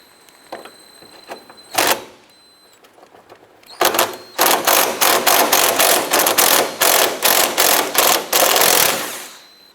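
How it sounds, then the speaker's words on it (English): A 10mm socket ratchet backs out headlamp assembly bolts on a 2007-2012 Nissan Versa, first as two isolated bursts, then as a long run of rapid, loud clicking strokes that stop abruptly, with no talking. "Using our 10mm socket, I want to go ahead and remove these bolts."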